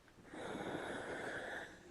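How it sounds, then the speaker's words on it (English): A dog snores nearby, one drawn-out, breathy snort lasting about a second and a half, faint and heard alone. "That's my dog snoring, by the way."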